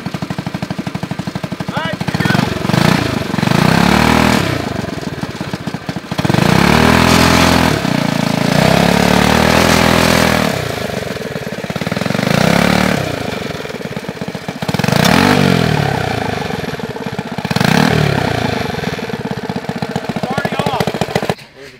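A homemade twin-engine go-kart running, its small engines revving hard in loud, uneven bursts with rattling, popping exhaust that sputters between surges.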